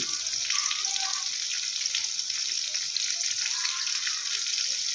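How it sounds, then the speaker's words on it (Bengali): Spice paste of turmeric, cumin, coriander and chili powder frying in a pan for a bitter gourd and rohu fish curry, a steady close sizzle with a bright hiss that holds evenly throughout. "এবার সুন্দর করে মশলাটা একটু কষিয়ে নেব ভেজে নেব"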